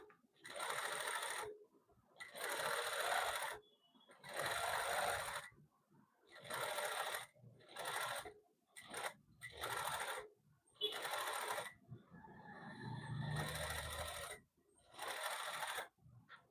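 A sewing machine stitches shiny thread right along the edge of fabric for the neckline of a men's suit, running in about nine loud whirring bursts separated by short pauses, with a brief low murmur near the end.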